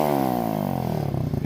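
A Boom Vader Grom clone minibike engine revs hard and close with no rev limiter, its pitch climbing steadily in one loud, continuous sweep.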